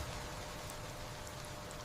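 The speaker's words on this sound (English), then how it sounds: "The rain continues, patient as ever." Steady rain falling in a forest, an even wash of patter with scattered drops standing out, soft and continuous, no voices.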